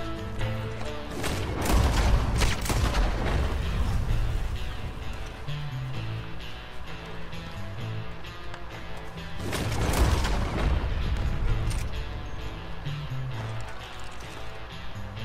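Two heavy booming shotgun blasts in Red Dead Online, several seconds apart, with a low rumble of game ambience between them.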